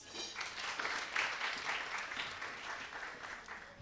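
An audience claps for a singer on a Kenyan music talk show, a dense, steady burst of applause running throughout the short stretch, fairly close and even, with faint crowd murmur beneath.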